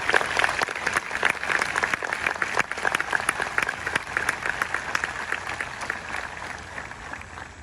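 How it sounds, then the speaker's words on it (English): Audience at a West Point Ring Weekend ceremony applauds the class of 1972, a dense, steady clapping from a large crowd that carries on at an even level from start to finish. "Please join me in applause for the West Point class of 1972."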